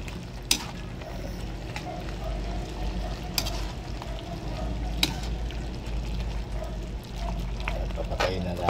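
Pork adobo cooking in a pan as long chili is added, with a steady low sizzle and occasional sharp clatters of utensil against pan throughout, with speech heard faintly under it.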